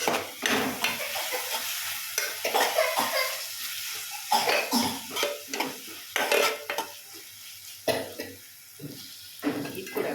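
Aloo kurma with potatoes, beans and carrot, cooking in a pan for puri, is stirred after the lid comes off: irregular bursts of spoon scraping over a soft sizzle, with a cough partway through.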